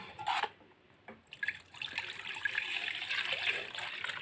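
Warm water pours and trickles into a bowl for spicy dough, a faint, close splashing that starts in short spurts and then runs into a steady stream.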